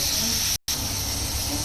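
Onions sizzle with salt in a frying pan, a steady close hiss with a very brief gap partway through.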